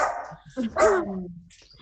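A puppy gives a short high yip and bark, close and loud, over roughly two seconds with a brief whimpering tail.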